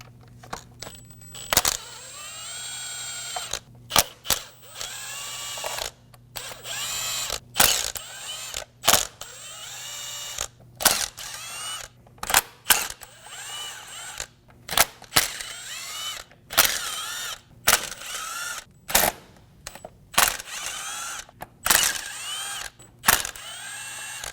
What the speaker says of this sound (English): Using an E10 bit, we're going to remove the 15 screws for the valve cover.